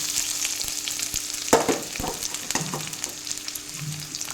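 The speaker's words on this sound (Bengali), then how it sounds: "এবার এই গরম তেলে দিয়ে দিয়ে দেবো এই পেঁয়াজ কুচি" Chopped onion goes into hot oil after paneer has been fried, a close continuous sizzle broken by scraping and clinks of a utensil stirring in the pan.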